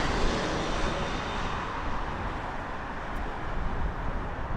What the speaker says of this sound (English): And this is going to be an Airbus A320